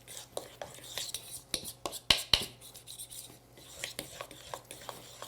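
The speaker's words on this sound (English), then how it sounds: "Now keep stirring for 1 minute." Spoon scraping and stirring apple cider flat bread dough in a bowl, with repeated close, soft scrapes and taps in an irregular rhythm and a low hum underneath.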